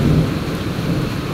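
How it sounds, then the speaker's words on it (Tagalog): Heavy rain pouring down in Singapore with a deep rumble of thunder underneath, a dense, loud and steady roar with no voices. "Ulan na naman siya. Sobrang lakas na to."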